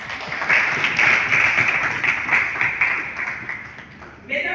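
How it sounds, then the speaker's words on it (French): An audience at an official opening ceremony applauds, a dense stretch of clapping that fades gradually before a voice cuts in at the end. "Vous pouvez applaudir pour elle."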